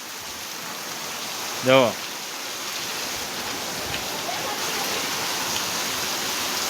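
Heavy rain falls steadily on a farm field, a dense, even hiss that lasts throughout, with one brief spoken word near the start.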